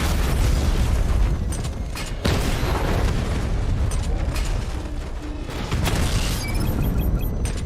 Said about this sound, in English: Your 60mm cannon will penetrate these heavily armored units, but it'll take a few direct hits to destroy them